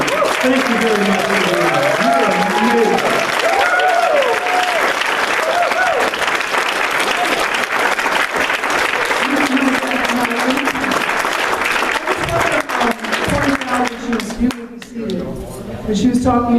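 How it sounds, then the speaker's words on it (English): Sustained applause from an audience at a Clark County Republican Women meeting, steady and loud throughout, with voices calling out and talking over the clapping before it thins near the end. "I think we need to give her a special round of applause and a special thank you"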